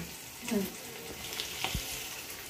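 Crab frying in a pan: a soft sizzle runs throughout, broken by a few brief stirring scrapes and clatters, fairly close, with no speech.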